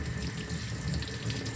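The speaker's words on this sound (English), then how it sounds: "I'm going to turn on my cold water" Cold water runs steadily from a bathroom faucet into the sink, a constant close splashing hiss with no talk over it.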